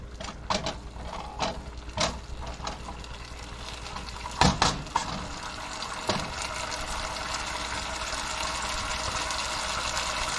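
Buffalo wing sauce bubbling in a pan, a steady bubbling simmer after a few scraping and clattering knocks at the start, close and moderately loud, no speech.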